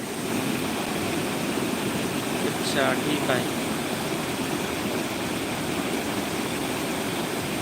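A village waterfall and flowing river water, a loud, steady broadband rush filling the whole span, with brief voices talking over it midway.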